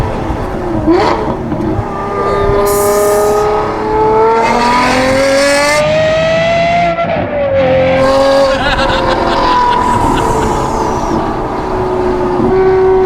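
An Aston Martin V12 with a manual gearbox revs hard, its loud, tuneful engine note climbing and dropping through repeated rises and shifts over several seconds.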